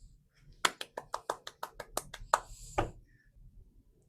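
About ten sharp, separate handclaps ring out in a loose, uneven rhythm during school video announcements, like a small group clapping sparsely rather than a full crowd. Faint background sound sits between them.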